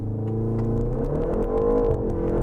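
BMW M135 engine held on launch control, revving steadily and loudly with a sustained droning tone that climbs slightly, close and continuous with no talk.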